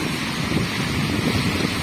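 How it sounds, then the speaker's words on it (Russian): Strong wind blowing along a city street in Tambov, buffeting the microphone with a continuous rough roar and gusty rumble, close and alone. "Спасибо за ветер."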